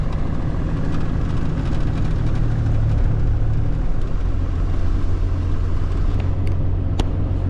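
A steady low engine rumble from a large truck, idling and shifting pitch slightly as it turns around, close and continuous with no talking.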